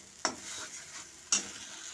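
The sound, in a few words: drumstick leaf mash being stirred continuously in a wok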